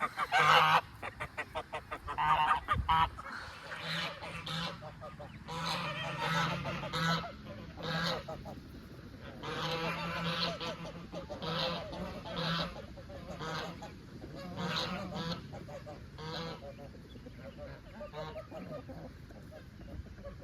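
A mother goose sitting on eggs on a farm honks repeatedly at close range, loud harsh calls coming in bursts with brief gaps, other fowl calls mixed in and no talk over them.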